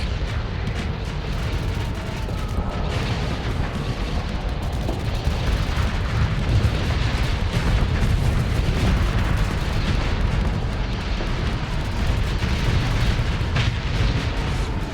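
Ships blowing up in the space combat game Starsector: a dense, continuous barrage of booms and rumbling blasts, loud and steady throughout with no talking.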